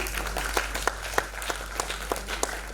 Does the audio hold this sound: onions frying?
no